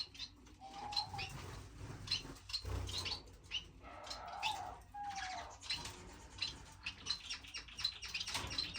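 Zebra finches and diamond doves in an indoor bird room keep up busy, soft chirping and tweeting, with occasional coos and wing flutters, fairly close and quiet.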